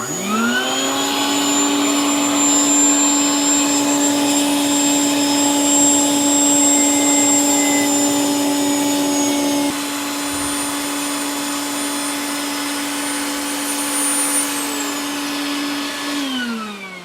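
A Dremel rotary tool grinding off a lip gives a loud, close, high-pitched whine held steady for a long stretch, its pitch sagging slightly under load and falling away at the end.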